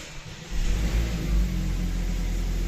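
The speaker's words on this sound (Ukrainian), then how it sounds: "Мотор запустився з півоборту." A cold BMW X3 F25 N20B20 engine, just after timing chain replacement, cranks briefly and catches, settling into a steady idle rumble that continues to the end.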